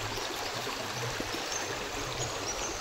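A stream flows near a village hamlet, its steady rushing, trickling wash continuous and fairly close throughout.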